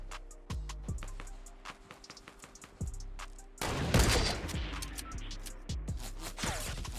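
Gunfire in the video game Fortnite, a string of sharp, separate shots in an uneven rhythm followed by a louder burst of heavy crashing noise, with no talking.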